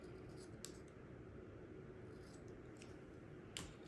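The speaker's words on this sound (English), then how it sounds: "Let me trim the edge of this one" Scissors trimming the edge of a page in an Erin Condren planner, with two or three brief faint snips heard close over a steady background hiss.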